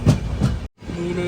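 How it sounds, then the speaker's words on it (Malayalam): An express train pulls into Nileshwaram railway station, heard from inside a sleeper-class coach, with a steady rolling rumble, a brief drop to silence midway, then a sustained tonal hum as the carriage moves on. "റെയിൽവേ സ്റ്റേഷനിലേക്ക് നമ്മുടെ ട്രെയിൻ എത്തിക്കൊണ്ടിരിക്കുകയാണ്."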